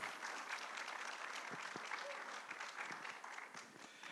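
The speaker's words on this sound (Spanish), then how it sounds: "Un aplauso para él." An audience at a literary workshop evening in Alajuela applauds for an introduced speaker, a dense, continuous patter of many hands, fairly faint and distant, holding steady for several seconds.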